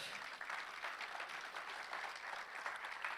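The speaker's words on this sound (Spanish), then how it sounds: "Dele ese fuerte aplauso al Señor." A church congregation applauds together in a sustained, even burst of clapping that fills the room at a quiet level, with no voices over it.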